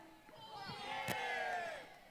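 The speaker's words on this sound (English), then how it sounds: "you guys gonna give one ku'e cheer" A crowd gives a rousing cheer for Dole after his speech at an outdoor proclamation event, many voices shouting together in one loud, swelling burst that fades after about two seconds.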